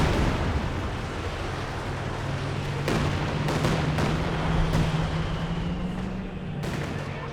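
A Katyusha rocket barrage in the Company of Heroes 2 war game, a string of sharp blasts and booms landing at uneven intervals over a constant low engine drone and battlefield rumble.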